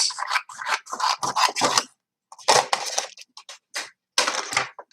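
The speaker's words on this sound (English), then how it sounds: "So then I have to cut it at size." Scissors cut card to size in a craft setting, making a series of close, crisp snipping and rasping strokes in short bursts separated by brief pauses.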